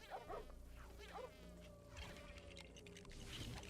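A bee buzzing close by, a faint, wavering drone that rises and falls as it moves around, over a quiet background, with no talking.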